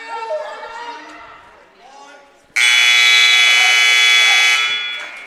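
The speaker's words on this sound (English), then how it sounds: "that buzzer's really loud in my headset" During a high school varsity wrestling match in Columbus, a loud, sustained electronic scoreboard buzzer blares through an arena. Commentators talk briefly before the buzzer starts, and the tone holds for a few seconds.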